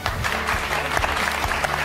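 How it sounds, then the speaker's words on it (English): Short stretch of audience applause, many hands clapping in a dense, steady patter at moderate loudness throughout the two seconds. "please applause."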